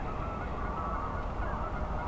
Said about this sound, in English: I found this big flock of Canada geese right beside the highway at Bazzano